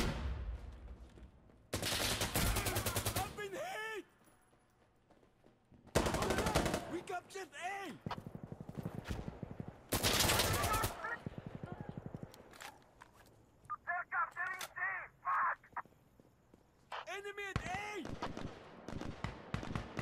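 Rifle gunfire from an AUG in the video game Insurgency Sandstorm: several loud, sharp bursts of rapid shots separated by pauses, with someone talking in between.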